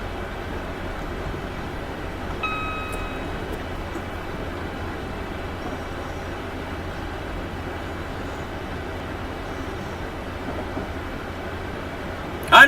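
A steady low rumble of a Class 321 electric train running in a train simulator game, with a continuous mechanical drone and a brief tone partway through, ending in a short louder clatter.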